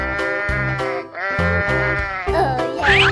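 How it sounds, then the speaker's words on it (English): A goat in a 3D animal video game bleats loudly in a series of short, wavering cries, several repeated calls in quick succession with game sounds behind them. "Goat."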